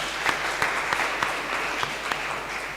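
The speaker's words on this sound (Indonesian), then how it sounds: "Mari beri aplaus." Audience clapping at a doctoral graduation ceremony in Makassar, a steady patter of many hands with a few sharper individual claps standing out, moderately distant in a hall.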